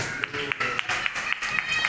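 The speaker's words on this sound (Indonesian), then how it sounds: "tepuk tangan untuk Mas Valer" Sparse, crisp claps from a sixth-grade class ring out in a loose, regular rhythm for a student in the classroom, moderately close and unaccompanied by talk.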